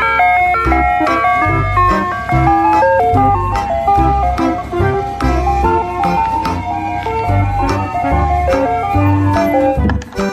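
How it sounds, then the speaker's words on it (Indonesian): A toy ice cream truck plays its bright, tinkling jingle loud and close, with a steady repeating melody over a thumping low beat for about ten seconds, and no talking. "Yang ini ada mobil es krim."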